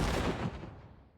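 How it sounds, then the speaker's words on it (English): A sharp gunshot-like crack from the Paranormasight video game: one loud, broadband burst that decays quickly into a fading rumble, heard alone. "They didn't have to make that sound like a gunshot."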